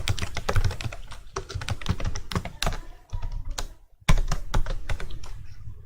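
Code is typed on a computer keyboard: rapid, close clattering keystrokes in uneven bursts, with a short pause before the typing resumes, heard alone.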